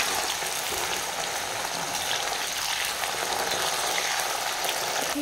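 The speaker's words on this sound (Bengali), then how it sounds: "এখন অল্প অল্প করে দিয়ে আলুটাকে ভেজে নেবো" Potatoes frying in oil give off a loud, continuous hiss and crackle, dense and steady throughout with no voices.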